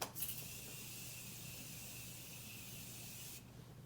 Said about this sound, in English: Take some of this, my Morphe spray.